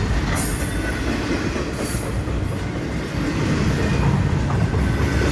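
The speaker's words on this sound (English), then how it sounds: "This looks to be a long train too." A long freight train passes close by at Roberts Road in Arrington, Tennessee, with a constant loud roar, rattling wheels and a high squeal of wheels on rail that carries on without pause.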